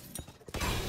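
A turret is destroyed in Valorant: a short sharp crack followed by a burst of breaking, shattering noise, fairly close and loud, lasting under a second.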